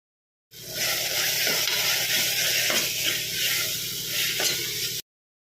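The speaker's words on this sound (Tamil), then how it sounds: "இப்போ குக்கரில் தக்காளி வெங்காயம் இஞ்சி பூண்டு பேஸ்ட் இதெல்லாம் வதக்குனதில் ஒரு ஸ்பூன் மிளகாய் தூள் போட்டு அதையும் நல்லா வதக்கிக்கலாம்" Tomato, onion, ginger-garlic paste and chilli powder sizzle and fry in a pressure cooker while a spoon stirs them, making a steady hiss with a few scraping strokes.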